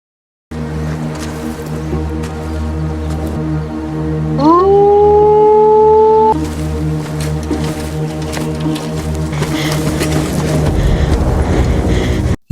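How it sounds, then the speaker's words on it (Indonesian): A wolf howls in the 2020 film Hunter Hunter: one long rising, wavering tonal cry of about two seconds, clear and fairly loud over a low, steady musical drone. "Mendengar suara auman dari serigala"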